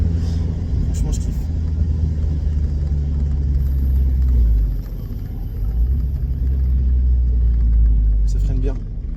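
A Mazda Miata's engine drones at a steady, low rumble from inside the car while driving, loud and continuous with a slight dip midway, as a voice talks over it.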